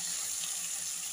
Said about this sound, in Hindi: हमने शिमला मिर्च को भी डाल दिया है। अब थोड़ी देर के लिए हम इसको फ्राई करेंगे अच्छे से।